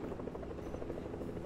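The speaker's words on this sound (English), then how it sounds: "Is that you in the helicopter?" Helicopter flying in the Fortnite video game, a steady droning rotor buzz with a rhythmic beating pulse, held evenly throughout with no talk over it.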